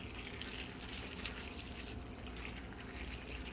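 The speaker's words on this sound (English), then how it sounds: "Now it's time to add the water" Tap water pours steadily into a pot in a continuous, soft rushing stream, filling it without pause; fairly quiet and close.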